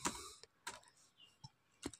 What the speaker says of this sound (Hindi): ये हमने नाम टाइप कर दिया